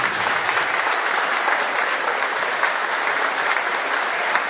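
Sustained applause from an audience at a meeting of school cooperators in Santa Fe province, a dense even roar of clapping that stays loud and steady throughout with no talk over it.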